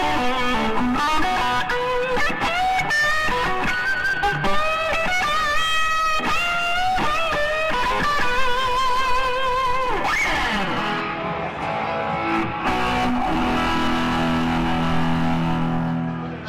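An electric guitar through the dirt channel of a Fuchs tube amp, loud distorted chords and sustained bent notes ringing close, then lower heavy chugging notes near the end.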